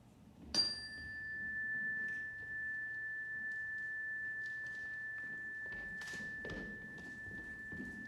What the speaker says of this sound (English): Now we're going to listen to the sound of the chime.